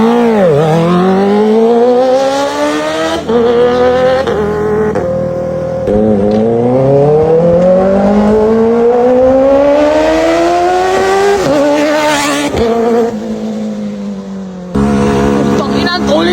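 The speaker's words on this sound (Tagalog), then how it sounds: "Mas gumanda at mas lumakas yung tunog ng shorty na pipe mga kamotodik." A big-bike motorcycle fitted with a new shorty exhaust pipe is revved hard and loud, up close. Its engine pitch climbs and falls in repeated sweeps, with a few sharp blips and drops in between.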